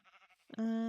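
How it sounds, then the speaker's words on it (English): A single sheep bleats in Minecraft, a short nasal bleat that follows a few softer, choppy game sounds, heard close and alone without talk. "Hello, sheep."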